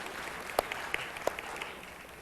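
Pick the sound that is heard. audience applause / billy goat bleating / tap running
audience applause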